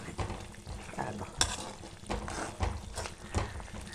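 Theeyal curry bubbling and thickening in a pan, with soft irregular pops and gentle sizzling close by, joined by occasional spoon stirs and scrapes.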